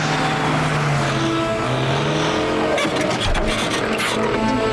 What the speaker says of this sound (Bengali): ওই দেখো ওই গাড়িটা ওই দিকে যাচ্ছে।